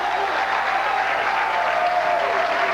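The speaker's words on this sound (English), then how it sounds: "And the boisterous crowd loves it." Boisterous crowd at a 2003 PBA bowling tournament cheering and applauding, a steady dense wash of clapping and voices that holds at full strength throughout.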